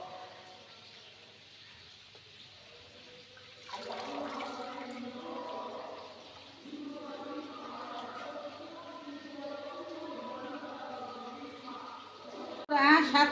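Water pours and splashes into a cooking pot during preparation of a Malabar spinach dish, a steady running rush under voices, ending in a sharper clatter.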